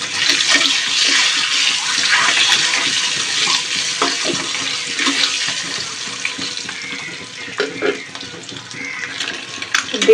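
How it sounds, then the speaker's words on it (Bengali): Peeled boiled eggs fry in hot oil with salt and turmeric for a Bengali egg curry. A loud, close, continuous hissing sizzle is broken by occasional sharper pops and crackles, with no speech. "প্রথমে আমি ডিমগুলো সিদ্ধ করে নিয়েছিলাম, পরে ছাল ছাড়িয়ে গরম তেলে লবণ হলুদ দিয়ে ভেজে নিচ্ছি।"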